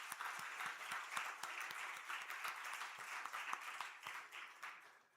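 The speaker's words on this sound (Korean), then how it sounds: "박수 한번 주세요." A church congregation at a Sunday worship service claps for a choir dressed up to sing the offertory hymn, with many crisp individual claps forming a steady, fairly distant round that tapers slightly toward the end.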